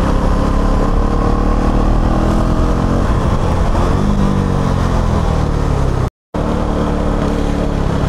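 A KTM Duke 390 motorcycle engine running in rain mode, a muffled, held-back drone that rises and falls under riding noise, close and steady, with a brief dropout near the end.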